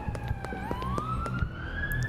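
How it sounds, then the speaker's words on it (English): A police siren in the video game Schedule 1 wails with a rising pitch sweep over a busy background of engine rumble and scattered clicks, moderately loud and sustained throughout. "I hear sirens."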